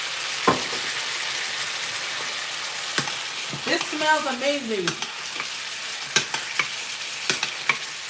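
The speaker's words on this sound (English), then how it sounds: "Listen to that sizzle." Chicken sizzles and crackles steadily in a hot pan with Riesling added, with occasional sharp clinks of utensils and a brief spoken remark partway through.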